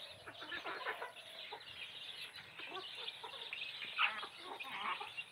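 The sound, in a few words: desi chickens clucking in coop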